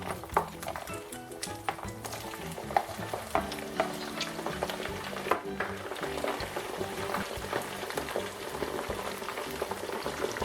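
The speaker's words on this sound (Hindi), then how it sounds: "अब इसको हम दोबारा फ्राई करेंगे।" Orange chicken crackles and bubbles through a second deep fry, a dense, steady sizzle with occasional stirring clinks, close and moderately loud.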